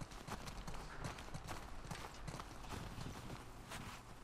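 Horse hooves clip-clop steadily in The Last of Us Part II, a quiet, even walking rhythm of hoofbeats over soft ambient game noise, with no talking.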